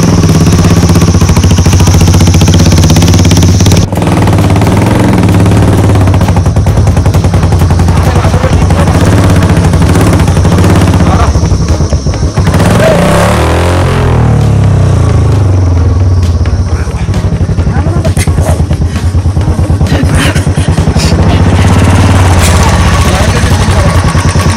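A motorcycle engine runs steadily and loudly close by on a new road toward Lake Gau in Panchthar, with a continuous rumbling drone that shifts in pitch around the middle as the bike changes speed, and voices talk faintly underneath.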